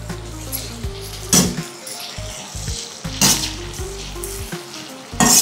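Oil sizzles steadily in a pan of shallow-frying pepper chicken with turmeric and ginger garlic paste, broken by three sharp bursts of louder frying and stirring, with occasional low hums in between.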